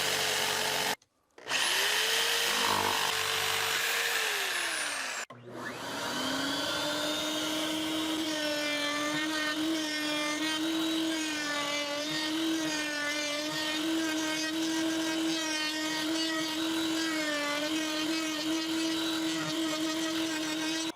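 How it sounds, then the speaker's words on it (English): Router cutting a hole out of a shelf panel, a loud, steady high-pitched whine that spins up after brief starts and stops, then holds with slight wavering as it works into a sharp corner. "I'm routing into a fairly sharp corner"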